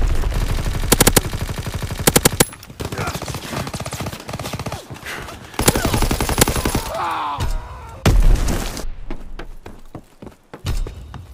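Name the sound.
mortar fire and gunfire in Call of Duty WW2 video game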